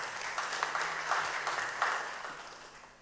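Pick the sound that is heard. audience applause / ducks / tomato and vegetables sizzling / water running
audience applause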